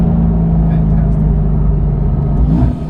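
A Mercedes-AMG GT S downshifting, a loud, close engine rumble with steady low harmonics that rise in a short rev blip near the end, with voices inside the car.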